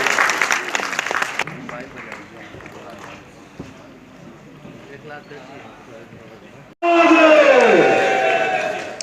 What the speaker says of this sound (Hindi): जोरदार तालियां भी होनी चाहिए मित्रों, तालियां कब बजेंगी।